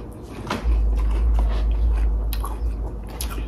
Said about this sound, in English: So let's eat these honey bunches of oats.